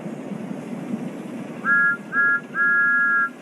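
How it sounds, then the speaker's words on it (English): The whistle of the steam locomotive Thomas the Tank Engine sounds three times, two short toots and then a longer one, clear above a soft background hiss. "Did you hear that? That's Thomas's whistle."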